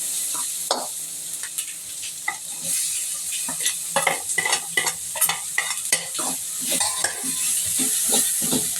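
Onions frying in oil with ginger in a pan, a steady close sizzle under repeated scraping stirs of a utensil, no talking.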